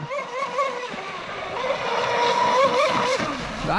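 Proboat Mystic 29 RC boat with an upgraded brushless motor running at speed on water, a high whining motor pitch that sweeps up and down as the throttle varies, loud and continuous.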